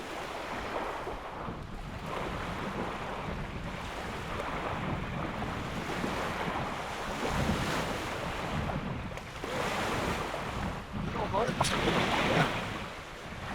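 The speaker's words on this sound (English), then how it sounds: "Couple minutes in, these waves are fantastic" Waves washing and breaking along the shore of Pyramid Lake, a continuous rushing surf with wind buffeting the microphone, fairly close and steady throughout.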